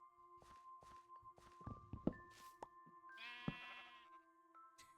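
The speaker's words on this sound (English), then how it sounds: "I'm about to be breeding these sheep" Sheep in the video game Minecraft bleat several times, short wavering cries mixed with soft footstep thuds and a few steady tones, quiet and alone.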